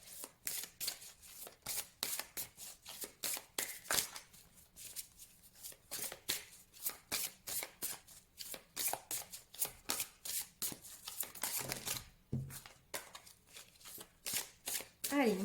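Tarot cards being shuffled and drawn by hand, a long run of rapid, close riffling and flicking bursts in an uneven rhythm, with a voice present in the background.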